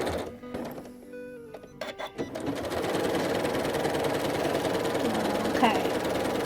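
Sewing machine running steadily as it stitches a generous seam along a tool bag, a continuous close mechanical whir after a few brief starts, with a voice speaking over it.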